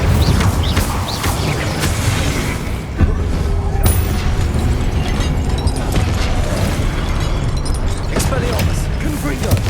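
Spell blasts from Confringo and Incendio cast in Hogwarts Legacy, a dense run of booming, crackling magical impacts and rumble filling the whole stretch, with a voice calling out over the game effects.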